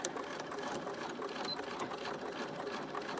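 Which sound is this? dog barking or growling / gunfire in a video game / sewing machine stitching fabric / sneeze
sewing machine stitching fabric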